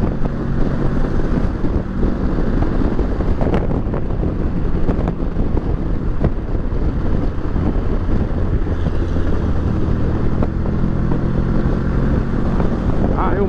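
Kawasaki Versys 650 ABS Tourer 2018 motorcycle ridden on the road, heard as a steady engine drone buried under heavy wind rush at the microphone, loud and constant throughout.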